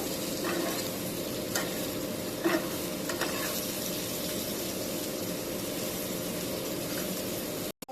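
Dried fish fries in a wok with a steady sizzle that holds throughout, broken by occasional scraping strokes as it is stirred, then cut off abruptly at the end.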